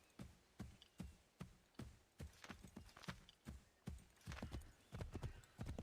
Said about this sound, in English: Horse doesn't seem too pleased about going that direction.